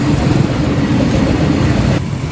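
An Indian Railways freight train rolls past close by, a loud steady rumble with rhythmic wheel clatter that continues throughout and drops slightly in level near the end.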